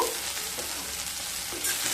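Fried onion and garlic sizzle steadily in a pan while being stirred, a dense, close, continuous frying hiss with no talking.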